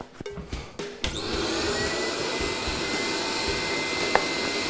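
Dust extractor in a woodworking shop, set up for sanding a walnut spoon, starts with a few knocks and clunks, then settles into a loud, steady whooshing roar.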